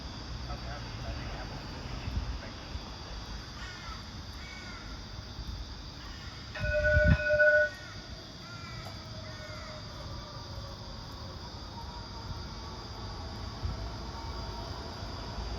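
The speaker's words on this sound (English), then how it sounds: "here comes the first tram" A Parramatta light rail tram pulls into Telopea stop outdoors with a low rumble and a brief, loud tonal horn-like blast midway, while crows caw nearby and voices talk in the background.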